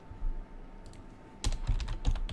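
Fingers tap out code on a computer keyboard, a brief pause giving way to a rapid flurry of close, clicky keystrokes with a faint steady hum underneath.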